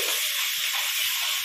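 A yogurt and fennel mixture is poured into a hot wok where fish was just fried, letting out a loud, steady, close hiss of steam throughout.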